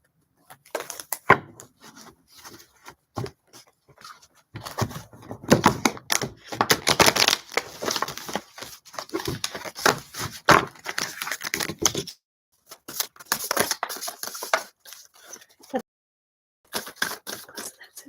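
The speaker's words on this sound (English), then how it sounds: "Big shuffle." Cards are shuffled again and again, a rapid crackling riffle in bursts with brief pauses between, close up and without speech.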